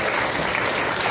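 Graduation ceremony audience breaks into a brief, fairly faint wash of dense clapping lasting about a second.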